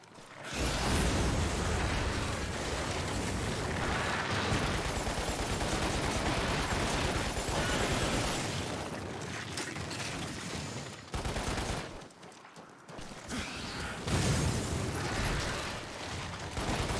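Dense gunfire and explosions from the video game Lost Planet: Extreme Condition, a loud, continuous barrage of rapid shots and blasts with two brief lulls.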